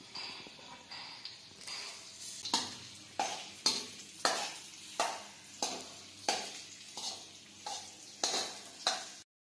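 Chopped dates being stirred into melted ghee for khajur pak, with a spoon scraping the pan in a steady rhythm of about one stroke per second over a soft sizzle, close and fairly quiet.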